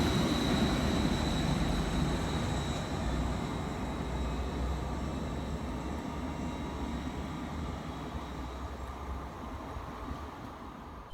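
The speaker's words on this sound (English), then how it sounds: "Next passing through the station is 66742, running 10 minutes late" A train passes through Thurston railway station, a broad rumbling roar of wheels and engine, loud at first and gradually fading as it moves away, with no voices.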